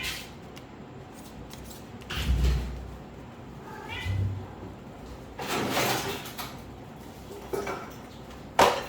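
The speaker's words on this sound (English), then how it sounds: "Oops, that's my cat." A kitten meows faintly once amid scattered rustling, thumps and light clattering in a quiet room.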